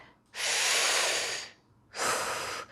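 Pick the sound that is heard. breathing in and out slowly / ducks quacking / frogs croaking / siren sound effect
breathing in and out slowly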